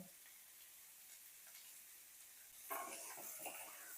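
Potatoes and vegetables fry in ghee in a pan for fried rice, giving a soft, steady sizzle. A brief scrape of stirring louder near the end.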